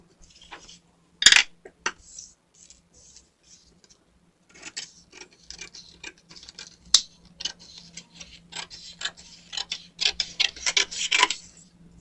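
Scissors cut out fabric skirt pieces close by, a series of crisp snips in irregular bursts with short pauses, growing busier and quicker toward the end, over a low steady hum.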